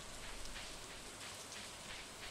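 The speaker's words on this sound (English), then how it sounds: "Since it's raining." Steady rain falls in Stardew Valley, a soft, even hiss of drops pattering on surfaces, faint and continuous with no voices.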